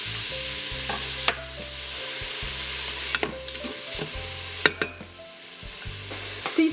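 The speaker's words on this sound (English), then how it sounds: "let's saute the onions and let it cook for 2 minutes" Chopped onions sauté in hot oil, a steady close sizzle punctuated by several sharp utensil taps and scraping stirs against the pan, with no voices.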